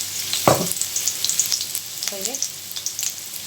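Steady crackling sizzle of garlic and ginger frying in hot oil, with a brief clatter of a utensil stirring in the pan.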